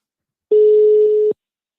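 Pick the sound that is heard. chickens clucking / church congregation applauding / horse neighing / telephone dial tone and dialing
telephone dial tone and dialing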